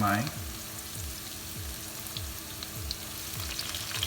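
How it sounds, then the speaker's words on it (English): Ginger sautéing in a hot pan for green chili chicken, an even close sizzle with a faint rhythmic scrape of stirring repeating about every half second. "move around with the ginger. Well, saute this."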